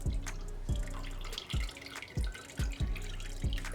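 Fresh orange, lemon and ginger juice drips and trickles through a strainer in a repeating pattern of close, splashy drops.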